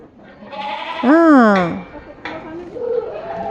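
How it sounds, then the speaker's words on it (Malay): A goat at a livestock farm lets out one loud, close, wavering bleat, followed by softer bleats and background chatter and clatter. "Ini kambing ni."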